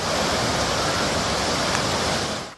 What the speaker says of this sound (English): As the Laidley Creek broke its banks, streets became rapids.